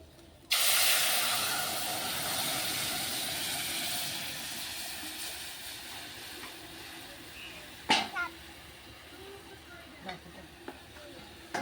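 Tomato juice poured into a hot pan of fried mustard seeds for a tomato chutney erupts in a loud, sudden sizzling hiss that slowly fades, followed by a few brief utensil clatters near the end.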